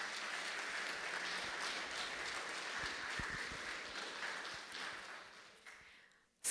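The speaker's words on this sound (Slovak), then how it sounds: "ešte raz vás poprosím o rovitánsky potlesk pre týchto všetkých" An audience at an outdoor heligónka accordion festival in Chocholná-Velčice gives sustained, even applause that fills the space and fades out toward the end.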